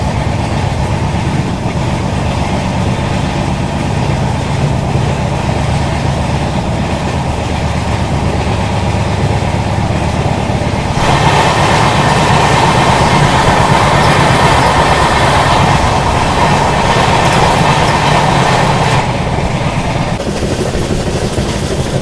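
A Vande Bharat Express running from Mumbai Central to Gandhinagar Capital rushes past near Bharuch, a loud, steady roar of wheels on rails with rhythmic clatter that swells brighter midway and holds, with no talking.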